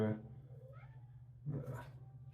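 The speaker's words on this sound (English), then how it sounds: "I see that the cat has wandered out." A pet cat meows indoors, a drawn-out call at the start and another rising meow a little later, fairly close and moderately quiet, over a low steady hum.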